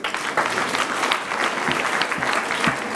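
Audience at a Nairobi marketers' night applauding a guest, an uncle visiting from Tanzania; steady, dense clapping fills the hall throughout, with a few sharper claps standing out near the front.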